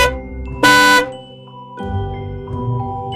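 A bus horn honks once, a short loud blast set against a bright, tonal children's music backing.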